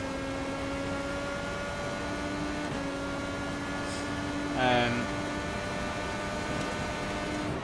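An IndyCar engine in the iRacing simulator on an oval drones steadily with layered tonal harmonics and a brief rising burst near the middle, sitting over a constant hum.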